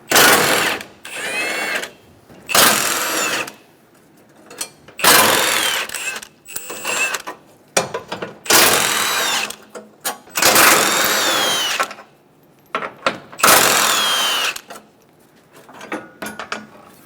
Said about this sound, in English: Remove the 6 15mm bolts for the outer bracket.